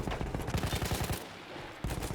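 A machine gun in the Battlefield 1 video game, on the Italian front in the Dolomites, fires a rapid close burst, pauses briefly and then opens up again.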